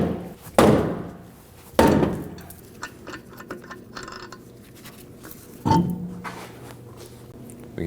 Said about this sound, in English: I'm going to use a dead blow on the back of the wheel to remove it